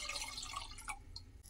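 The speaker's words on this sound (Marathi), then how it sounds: "1 वाटी याच्यामध्ये पाणी घालायचं" Water poured from a small bowl into a vessel of curd while making a chilled ragi ambil drink, a soft, close trickle and drip lasting about a second and a half, with no talk over it.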